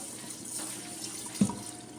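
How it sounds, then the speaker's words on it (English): Water runs steadily into a pot of West African stew on the stove, a soft continuous pour with a brief splash near the end. "I'm just gonna add a little more water."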